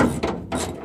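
A hand ratchet clicks in two short bursts, close and fairly loud, as it backs out the last bolt holding the rear quarter glass on a 1968-73 Chevelle.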